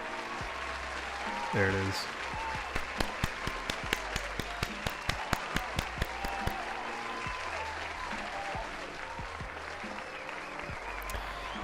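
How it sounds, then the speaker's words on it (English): A live audience applauds and claps at a studio stream, steady clapping rising to sharp distinct claps, while someone speaks over it. "let's get the applause going."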